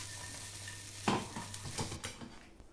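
Diced white onions and cauliflower fry in a pan with a soft steady sizzle, broken by a few sharp clatters and scrapes as the pan is tossed and stirred.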